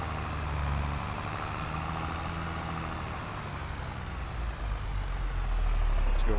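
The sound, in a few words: truck dumping its load between tires, farm roleplay video game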